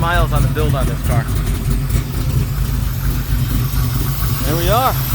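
A stroked LS3 V8 idles in a 1970 Camaro Z28 with a steady, loud, close low rumble throughout, and brief voices come through at the start and end.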